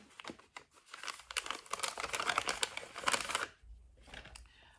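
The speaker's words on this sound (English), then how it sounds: "excuse the rustling" Plastic bags crinkle and rustle up close in busy, uneven bursts for several seconds, then settle into softer, sparser rustling.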